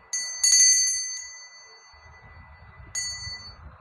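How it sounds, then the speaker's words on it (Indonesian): A small bell rings clearly twice, a bright ringing ding with a lingering metallic ring, the second strike coming after a pause, with faint low rustling between. "saya akan langsung melanjutkan kartu remi dengan ditandai lonceng berbunyi"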